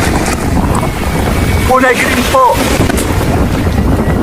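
Wind buffets the microphone over the rolling wash of ocean waves at Lobo Beach, loud and continuous, with a voice speaking briefly partway through.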